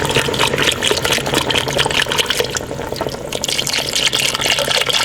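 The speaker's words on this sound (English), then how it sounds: "I start off with 1 quart of chicken stock. I'll just pour that in" Chicken stock pouring steadily into a pot, a continuous splashing, gurgling stream that stays loud and close throughout.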